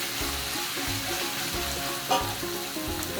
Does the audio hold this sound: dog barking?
no